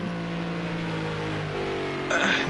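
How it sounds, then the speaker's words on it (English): A GT3 race car engine at Spa in a racing game drones steadily with layered harmonic tones, then surges louder near the end, with a voice talking over it. "Did you hear that engine?"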